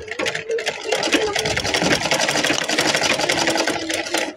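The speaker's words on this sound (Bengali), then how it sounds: "এখানে সেলাইটা মজবুত করার জন্য আমি কয়েকবার সিলি দিব" A sewing machine runs in a fast continuous burst, back-stitching a fabric loop onto a kameez, the rapid needle chatter close and steady for a few seconds.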